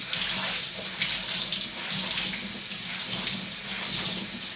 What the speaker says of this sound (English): We're going to put the water on hot.